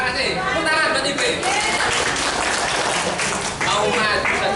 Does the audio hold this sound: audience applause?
yes